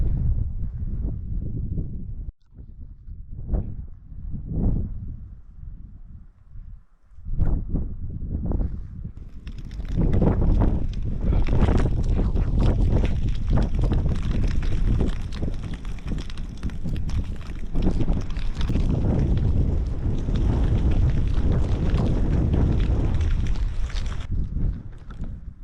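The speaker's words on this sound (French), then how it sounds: "Maintenant, je suis dans le vent et la neige." Strong wind gusting through a snowstorm on the Vercors high plateaus, starting with a few rough bursts, then a loud, constant roar against the microphone that holds steady to the end.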